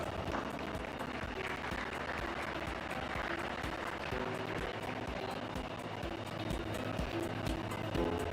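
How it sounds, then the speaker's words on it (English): Audience applause at the CII Partnership Summit 2025, a sustained patter of many people clapping in a large hall over a low steady hum for about eight seconds, with no clear speech. "Let's have a big round of applause."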